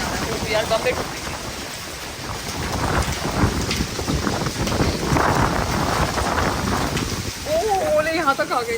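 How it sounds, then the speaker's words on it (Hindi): Heavy rain and hail pound down during a storm in Delhi, with rolling thunder, a steady dense roar throughout and people talking over it near the doorway. "ओले यहाँ तक आ गए हैं भाई. वो दरवाजे तक आ रहे हैं."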